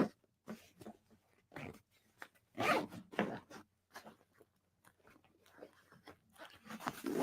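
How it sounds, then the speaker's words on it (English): A concealed zipper pocket on a Pakt travel bag is pulled open in a series of close, crisp zipping rasps in short bursts of varying length, with no talk. "this is a zipper pocket here that's concealed by another zipper"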